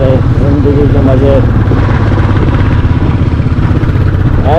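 Motorcycle climbing a steep off-road mountain track from Landour to Bhadraj, its engine chugging steadily and close throughout with rough clatter, under a rider's voice talking.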